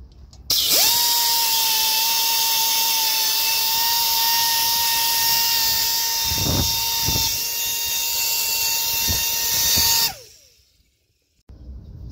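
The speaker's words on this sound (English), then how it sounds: "So when you're cleaning the inside of the housing with the Dremel, you don't want to get into the metal." A Dremel rotary tool whines at a steady high pitch while cleaning the inside of a semi trailer brake housing, close and loud for about ten seconds with brief scraping bursts, then cuts off abruptly.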